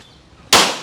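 A single sharp, loud firecracker bang bursts out of near silence at a house in Jaffna, its crack fading quickly over a fraction of a second.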